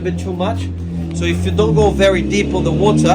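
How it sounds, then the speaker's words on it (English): A car passes nearby beside a river, its engine hum swelling in the background while someone talks over it throughout. "sorry for the noise, a car just passed by"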